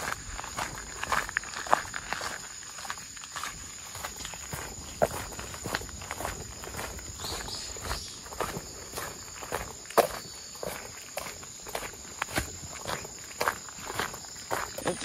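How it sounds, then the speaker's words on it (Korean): Footsteps crunch steadily along a forest path in Bijarim, Jeju, an even walking rhythm close by over a constant high insect drone, with no talking. "이 발자국 소리 너무 좋아."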